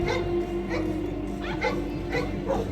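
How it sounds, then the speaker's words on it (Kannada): A Labrador retriever at a dog show whimpers and yips in short, high bursts spread across a few seconds, over a steady electrical hum with faint voices in the background. "ಇರುವ ಅತ್ಯಂತ ಪ್ರಾಮಾಣಿಕವಾದಂಥ ನಾಯಿ ಲ್ಯಾಬ್ರಡಾರ್ ರಿಟ್ರೀವರ್"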